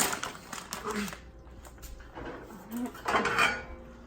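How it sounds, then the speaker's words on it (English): Kitchen clatter while filling ramekins with shepherd's pie: spoon and dish knocks, scraping and clinking of utensils against ceramic, intermittent and close, with a voice talking in between. "we're going to go ahead and fill up our ramekins"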